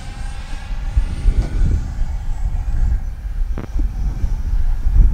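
Arrows RC L-39 Albatros 50mm EDF jet flying on 4S power, a steady ducted-fan whine and rushing drone with wind buffeting, fairly loud and continuous with no talk.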